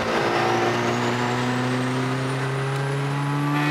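A Proton Satria Neo MIVEC turbo car drives with a loud, steady engine drone that climbs slowly in pitch as it accelerates in gear, heard from close inside with no talking.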